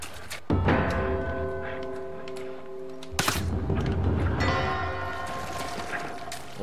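A father's gun fires in the action shooter Wanted: Weapons of Fate, two heavy booming shots with ringing, metallic tails, the second blast followed by an explosion-like roar and lingering resonant decay.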